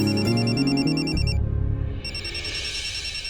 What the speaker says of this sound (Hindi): अरे ये फोन किसका बज रहा है?